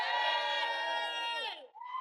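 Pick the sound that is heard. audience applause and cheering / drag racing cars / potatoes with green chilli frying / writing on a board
audience applause and cheering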